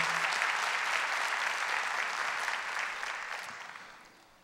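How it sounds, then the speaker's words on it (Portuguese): A church congregation applauds for Our Lady in a steady wash of clapping that gradually fades away over the final seconds. "Uma salva de palmas à Nossa Senhora."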